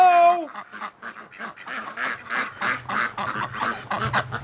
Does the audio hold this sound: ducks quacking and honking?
yes